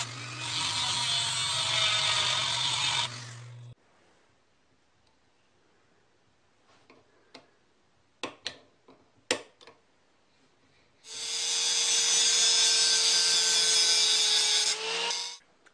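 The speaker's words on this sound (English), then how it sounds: "Now I just have to grind a new groove in there for a snap ring." Grinding a snap-ring groove into a metal shaft: two loud, steady bursts of harsh grinding, each a few seconds long, separated by a quiet gap with a few scattered clicks and taps.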